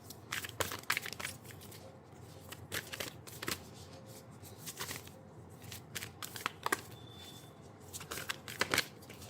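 Tarot cards being shuffled by hand, a steady run of soft riffling flicks and slaps close by, quiet and with no talking.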